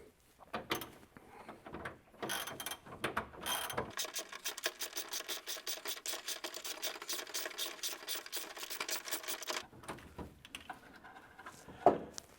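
Ratchet wrench turning a bolt inside a car during interior strip-down, starting with a few scattered clicks and then settling into a long run of rapid, even, close ratcheting clicks before trailing off into handling noises.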